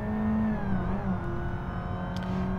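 A Volvo S60/V60 engine in BeamNG revs steadily with a whining, supercharger-like tone, held at a high pitch with small rises and dips, loud and close throughout.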